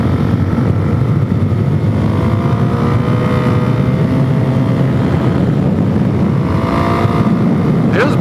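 Suzuki DRZ400S dual-sport motorcycle ridden on a dirt road with a slip-on exhaust, engine droning loud and steady with rising revs through gear changes, heavy wind rush throughout.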